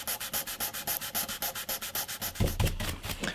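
A guitar fretboard is hand-sanded with 600 grit sandpaper in quick, even, rhythmic rubbing strokes, close and clear, turning into a rougher continuous scrub toward the end.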